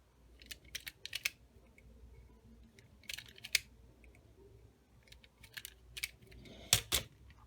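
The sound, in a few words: stripping insulation off an electrical wire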